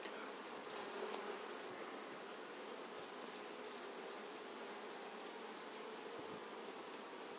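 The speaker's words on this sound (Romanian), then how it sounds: "Tot timpul într-un pumn de albină mai greu găsești matca." Honey bees from a swarm caught in a trap buzz as a dense, continuous hum, close and steady throughout, with no other sounds.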